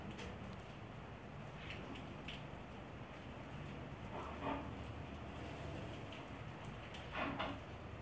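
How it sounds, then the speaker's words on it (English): Steady rain falling outdoors on a cold evening, a soft continuous patter of drops, faint and distant, with a couple of brief louder splashes and no voices. "It's really raining here."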